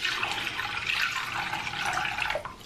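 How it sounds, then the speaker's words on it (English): Tap water runs steadily into a cooking pot in a home kitchen, a close, continuous splashing rush with no pauses and no talking. "let's put some water"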